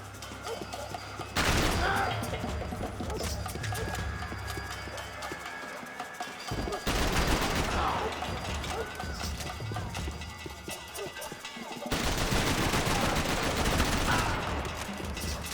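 Gunfire in the Max Payne 3 video game, set in a favela shootout: bursts of dense shots and crashes come in three loud waves, with quieter stretches of scattered action between them.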